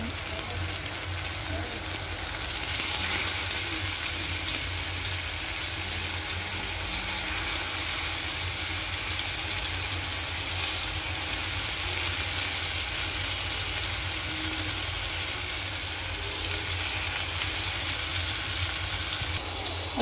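Bitter gourd frying in hot oil for a karela and potato kalonji, with a steady close sizzle and crackle running throughout, bright and continuous, with no talking over it.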